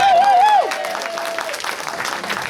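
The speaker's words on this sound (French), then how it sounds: "On peut applaudir" Audience claps at a live show in Velaine-sur-Sambre, starting under a sung or held musical note that fades, then continuing as a moderate, steady patter of applause.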